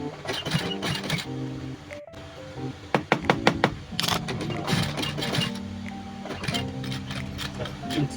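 A sewing machine stitches stiff, thick denim jeans fabric in bursts, with clattering needle runs, sharp knocks and thunks between them in a close workshop setting.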